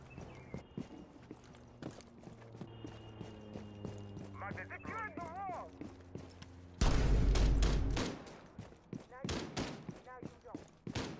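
Gunfire in Modern Warfare Remastered on the Buena Vista map, a rapid burst of loud, close automatic shots in the middle, with scattered footsteps and impacts around it and a player talking over the action.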